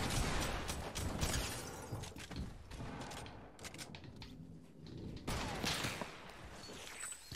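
Rapid bursts of gunfire in the Fortnite video game, dense crackling volleys filling most of the stretch with a brief lull in the middle before firing resumes.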